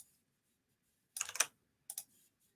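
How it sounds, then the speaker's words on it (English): Quick bursts of typing on a computer keyboard, two short clusters of crisp key clicks separated by silence, close and fairly quiet. "That's a lot of typing."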